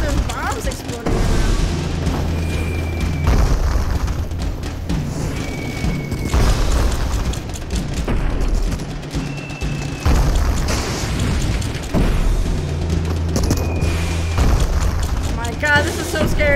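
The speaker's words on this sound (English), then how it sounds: "Why are these people okay with the fact that there's bombs exploding around?" Bombs burst repeatedly around the player in the video game Ape Out, deep booming blasts spread through a loud, busy mix with a voice talking over them.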